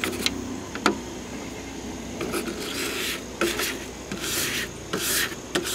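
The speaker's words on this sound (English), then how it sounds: "I'm now just going to scrub with the brush here" A brush scrubs oven-cleaner-softened paint off a hard plastic RC car body, giving repeated close, raspy strokes in an uneven rhythm with occasional sharp clicks.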